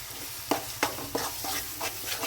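Chilli, ginger and garlic frying in a pan for lime pickle, stirred with a spoon in several quick scraping strokes over a soft continuous sizzle, close and fairly quiet.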